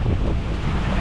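Strong wind, about 26 knots, roaring steadily over a sailing catamaran heeled at 45 degrees to the wind, with waves rushing against the hull, loud and continuous with no voices.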